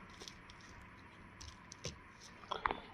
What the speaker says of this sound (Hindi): ये हमारे पास पीसी की केबल है, इसको हम यहाँ पर इंसर्ट करते हैं